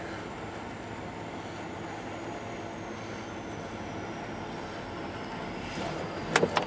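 Pan Am Railways freight train 287, carrying racks and single-stack cars, crossing the Hoosac River at North Adams, Massachusetts: a steady broadband rumble of rolling cars heard from a distance, with a couple of sharp clanks near the end.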